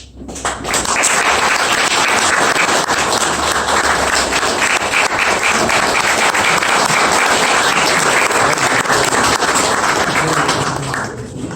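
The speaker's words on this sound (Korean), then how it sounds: "감독님 모실 때 큰 박수로 환영해 주시기 바랍니다" A large audience in a conference room breaks into sustained applause welcoming a film director, dense and loud, holding steady for about ten seconds before tapering off.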